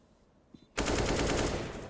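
Sustained burst of AK rifle fire in Counter-Strike: Global Offensive during a pro match, rapid close automatic shots starting abruptly after a quiet moment and continuing loud to the end.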